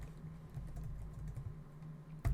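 Quiet, steady typing on a computer keyboard, a continuous patter of small key clicks with one louder thump at the end, no voices present.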